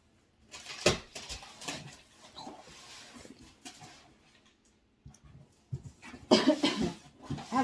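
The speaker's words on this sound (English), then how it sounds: "I have a little bit of a cough." A few close, abrupt coughs scattered across the stretch, including a sharp one early and a rough cluster near the end, amid quiet rustling.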